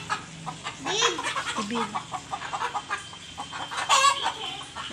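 Chickens cluck busily close by, sharp bursts and squawks overlapping throughout, while a person calls out a couple of short words over the flock.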